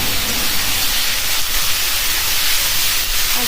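Chicken frying in a pan for a curry gives a loud, continuous hiss and sizzle that stays even and close throughout, with no talking.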